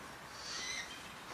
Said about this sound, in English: There's a barn owl over there.